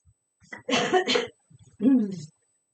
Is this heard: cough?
yes